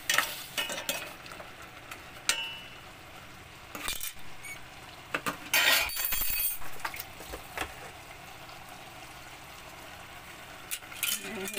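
Pork ribs being added to a cooking pot in a Philippine home kitchen, with scraping, clattering and sizzling bursts over a quiet background, a few sharper knocks and rustles scattered throughout.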